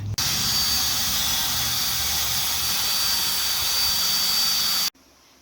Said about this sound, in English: when it's all off, you'll have to buff that out, make it super clean